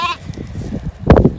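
Sheep being herded on a farm let out a couple of loud, nearby bleats, one at the start and a stronger one near the end, over rustling movement with no talking.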